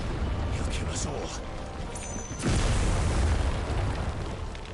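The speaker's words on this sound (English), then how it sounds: "Explosions." Explosions in the video game Final Fantasy XVI, a steady rumbling barrage of booms with a heavier blast about midway, continuing loud under game dialogue and music.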